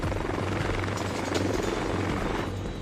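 Three Boeing CH-47 Chinook twin-rotor military helicopters take off from a camp at dawn, a loud, steady rotor roar with a low drone that fills the whole stretch, no voices.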